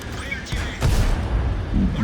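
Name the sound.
tank gun firing in a tank video game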